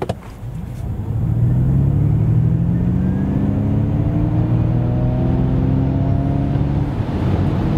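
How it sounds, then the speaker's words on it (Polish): A 2023 Ford Mustang Mach-E electric car's motor hum rises steadily in pitch as it accelerates hard from 0 to 100 km/h, a smooth climbing whine over road rumble, close and continuous. "Tak wygląda w testowanym egzemplarzu przyspieszenie od 0 do 100 km na godzinę."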